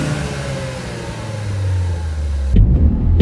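A Ford Focus ST with its engine rising in a rev as the car pulls away, a steady mid-pitched drone climbing before a louder burst near the end.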